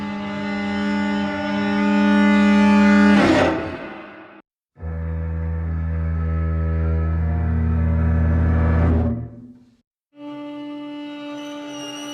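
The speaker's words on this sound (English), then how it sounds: "cellos and violins and violas." Sustained bowed cello, violin and viola cluster chords in three long blocks, rich and layered, swelling then cutting off with brief silent gaps between.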